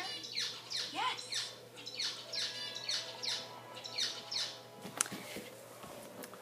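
A pet zebra finch chirps out a rapid run of bright, repeated squawky notes in a steady pulsing rhythm, mimicking a song's tune, close and clear over faint room hum, ending with a couple of sharp clicks.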